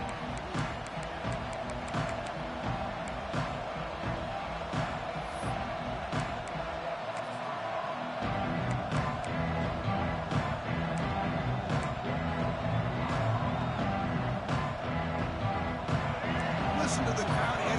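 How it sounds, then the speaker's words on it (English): A dense, steady roar of a large stadium crowd at an Ohio State versus Notre Dame football game fills the whole stretch, with scattered shouts and a commentator talking over it. "Listen to the crowd energy here in the early going."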